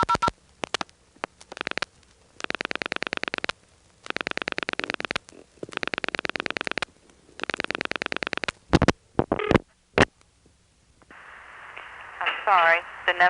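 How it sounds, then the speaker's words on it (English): A 1977 telephone line switched by an ITT Pentaconta crossbar exchange in Asheboro, North Carolina, carries rapid pulsing tone bursts and clicks. It ends in a steady tone, with coin-drop chimes as two dimes go into a coin phone. "on the dial tone here, you can hear 2 dimes going in from a coin phone pretty clearly"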